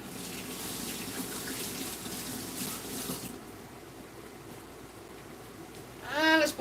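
A kitchen tap runs for a rinse during breakfast prep, a close, gushing stream for about three seconds before it shuts off, followed by a brief clatter.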